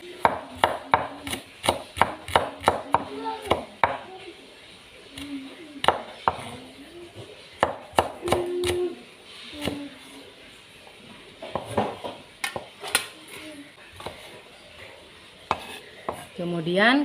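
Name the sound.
slicing shallots with a knife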